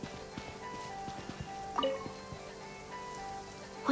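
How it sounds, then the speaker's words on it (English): Steady rain falls in Genshin Impact, a soft continuous patter with scattered individual drips and splashes, moderately loud and even throughout, with a few brighter taps near the middle and end. "It always rains when I go on an adventure."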